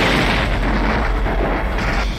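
Heavy weapon fire and explosions from the Flight of the Intruder flight combat video game, a dense, continuous rumbling barrage of booms and bursts, loud and sustained throughout with no talking.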